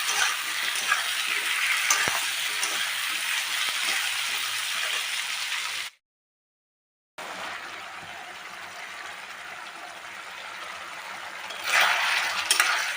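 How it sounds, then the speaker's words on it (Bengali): Salted potatoes fry in a pan with a continuous close hiss and crackle, broken by a short stretch of silence, then resume with a louder stirring burst toward the end. "ভালো করে আলুটাকে ভেজে নিতে হবে"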